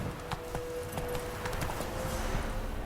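Horse hooves clip-clop at a steady walking pace in The Witcher 3, a moderately loud rhythmic clatter of hoofbeats set against steady ambient background noise.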